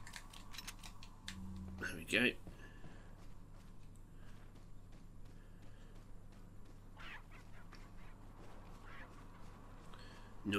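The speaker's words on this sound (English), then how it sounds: "Noisy chickens" Chickens clucking in a village in the video game Resident Evil 4: a few short, faint clucks amid quiet game ambience and footsteps.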